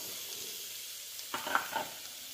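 Onions frying in a pan for wheat vegetable pulao, a soft steady sizzle with a few brief scraping stir sounds near the end.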